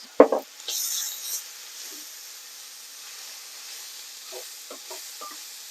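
Lamb mince with ground cinnamon stirred in a pan: a sharp scrape of the spoon at the start, then a soft, steady sizzle and hiss with a few faint clicks of stirring toward the end.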